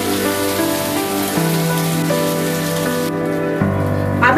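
Ginger and garlic paste fries in hot oil with a dense, steady sizzle that is close and loud throughout, with no talking.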